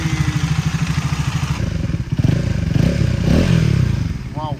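Duke 250 or RM250 motorcycle being ridden, its engine droning loud and steady with rhythmic revving pulses, close and continuous throughout, with a faint voice briefly heard.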